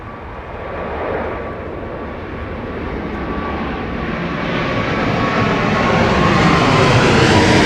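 Jumbo jet airliner at London Heathrow Airport, a steady broadband engine roar with a faint whine that swells gradually louder over several seconds as the aircraft banks past, heard alone.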